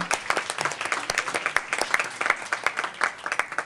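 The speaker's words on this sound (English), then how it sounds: "let's give all of our students a round of applause again." Attendees at a school board meeting give students a round of applause, many hands clapping briskly and continuously in a room, fairly loud and even throughout the few seconds.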